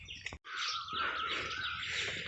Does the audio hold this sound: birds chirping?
yes